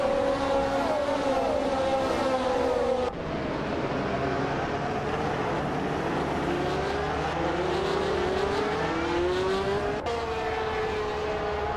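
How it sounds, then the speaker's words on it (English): A Ferrari 312 race car in a racing video game drones steadily, its engine pitch climbing and dropping through gear shifts, with other cars whining past in the mix. "Joey is driving the Ferrari 312, starting in 22nd place."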